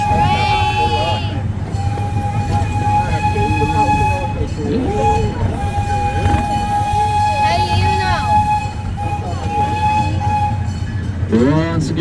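A small forest tourist train rumbles steadily along its rails, with faint squeals and clatter running throughout, while a few people talk and a short horn-like tone sounds near the end.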